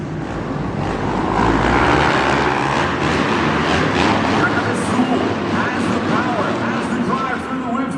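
Motocross bikes in a pro bracket semifinal at an indoor arenacross event in Lexington, Kentucky, roar off the gate together, their engines a loud, dense, sustained drone echoing through the arena under an announcer's commentary.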